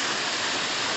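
A waterfall rushes in a steady, dense hiss of falling water, a brief continuous burst with no voices.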